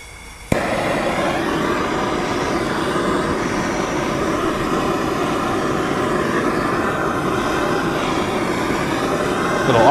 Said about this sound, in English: I'm going to try to work the propane torch in the intake with the starter button at the same time